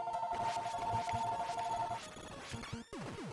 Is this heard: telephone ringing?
yes